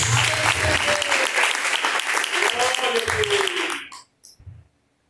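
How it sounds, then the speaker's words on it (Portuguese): A church congregation claps joyfully for Jesus during a Pentecostal service, with sustained dense applause mixed with singing and a preacher's voice, then stopping abruptly with a few scattered last claps. "E as palmas bem alegres de dar para Jesus."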